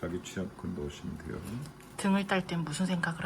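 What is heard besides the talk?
No everyday noises stand out.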